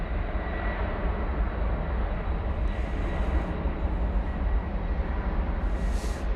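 An Airbus A300 on Flight 755 to Chicago Rockford rumbles at DFW Airport, a steady, loud jet engine roar with a broad low drone that holds throughout, while a faint hiss rises briefly twice.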